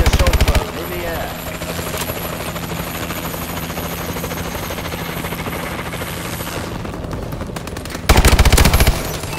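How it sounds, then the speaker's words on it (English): In multiplayer Call of Duty: Advanced Warfare, an enemy assault drone whirs overhead with a constant rotor-like drone, while bursts of loud automatic gunfire crackle close at the start and end. "Enemy assault drone in the air."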